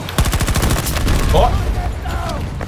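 Rapid automatic gunfire in the Battlefield 2042 beta, a dense burst of close, loud shots in quick succession followed by further scattered firing, with voices speaking over the action.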